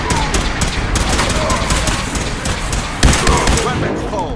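Righteous Authority laser rifle firing in Fallout 4, a steady rapid stream of loud, crackling shots with a sharper burst toward the end, dense and close throughout.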